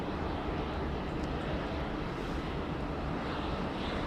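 Heavy airliner jet engines at Sydney Airport make a steady, broad roar that holds evenly throughout at moderate distance, with no voices.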